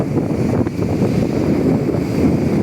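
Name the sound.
strong wind gusts and 5 ft waves at sea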